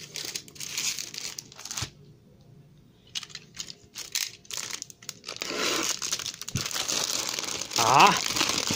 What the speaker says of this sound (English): Looking forward to ripping open this multi-pack.